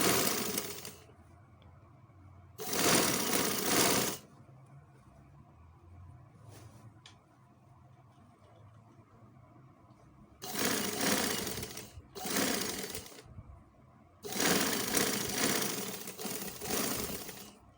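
A sewing machine stitches the back seam attaching a kameez sleeve, running in several loud bursts of a few seconds each, separated by pauses of quiet handling.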